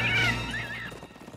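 A cartoon horse gives a whinny with a falling, wavering pitch, close and fairly loud, followed by a quieter tail of stirring noise, in an animated My Little Pony royal-wedding scene.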